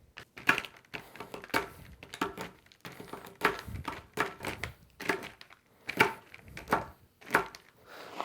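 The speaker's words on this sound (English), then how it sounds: "We're going to have to chop it into small pieces and then make the filling." A bar of chocolate is chopped into small pieces with a knife on a board, giving steady, close crunching chops in an irregular rhythm of roughly one or two strikes per second, with no talking.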